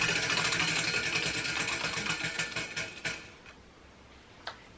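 A prize wheel spins with a fast, dense run of ticking that slows and thins out over a few seconds, ending in a few last sparse clicks.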